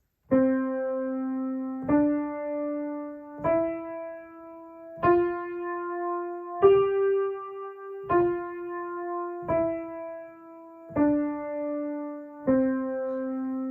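Eight single piano notes played one after another at a slow, even pace, rising step by step then falling back, each ringing clearly with no talking.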